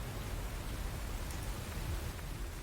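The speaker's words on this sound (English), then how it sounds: "All right, so you can hear the rain Here." Steady rain pours as an ambient effect during a fantasy tabletop roleplaying session, a dense, even hiss of falling water heard alone with no voices.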